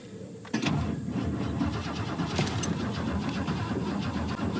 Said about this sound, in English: We're gonna watch what happens as soon as I try to turn this car on.